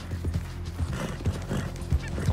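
A horse galloping in the video game Red Dead Redemption 2, with steady thudding hoofbeats, snorts and whinny-like breaths over a continuous low game soundscape, loud and close throughout.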